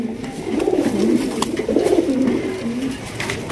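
Red Rajgolla pigeons coo in a low, rolling murmur that swells and fades continuously, close and fairly loud, with no talk over it.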